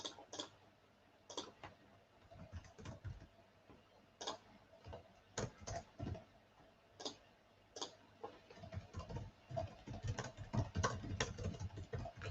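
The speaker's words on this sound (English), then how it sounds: "just as I finish typing this little bit" Computer keyboard typing at a desk: irregular bursts of quick clicking keystrokes with short pauses between, fairly close, growing denser and busier toward the end, with low background hum and no talk.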